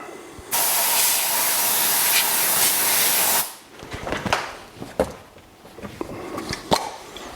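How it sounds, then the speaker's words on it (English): A can of brake cleaner blasts a loud, steady hiss into an engine bore for about three seconds. The spray cuts off abruptly and scattered small knocks and handling noises follow. "I've got a little bit of brake cleaner here. Just going to blow that out."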